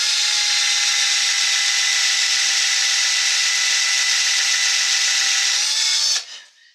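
Power drill boring steadily into a block of wood for a carved bottle stopper, a loud continuous whine that runs unbroken for about six seconds, then stops abruptly and spins down.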